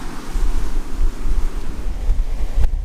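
Strong wind buffets the microphone on an Isle of Skye beach, with a loud continuous low rumble and gusting roar over the wash of sea waves, plus a brief knock near the end.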